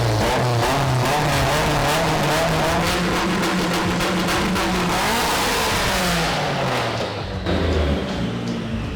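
A fully built Nissan 180SX engine revs hard and loud, close up, with rising and falling pitch sustained throughout, easing slightly near the end.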